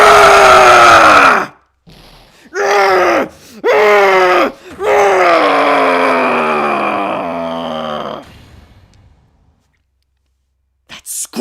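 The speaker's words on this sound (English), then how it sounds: "That scream! I've heard that scream before." A character screams in the Phoenix Wright: Ace Attorney courtroom game, delivered as several loud, strained, wavering cries with short breaks between them, the last one long and falling before it fades into near silence.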